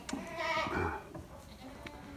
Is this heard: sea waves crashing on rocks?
no